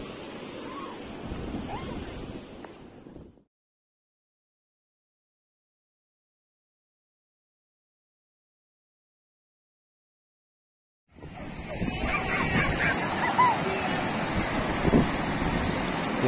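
Water flowing at Pachira near Dhom dam in Wai, a loud, continuous rushing wash heard up close that cuts out into silence for several seconds in the middle before returning just as strong.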